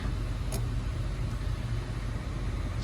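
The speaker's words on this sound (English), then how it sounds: "we'll leave the car running for a little bit here and just have it warm up a little bit" A first-generation Honda Pilot engine idles while warming up, giving a steady, low continuous rumble close by with no other sounds over it.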